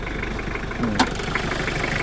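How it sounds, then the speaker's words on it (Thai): A pickup truck's diesel engine idles steadily with a low, even rumble, with a brief click partway through. "บึ้มเดียวนะเปิดเครื่องให้เบิ่งก่อน"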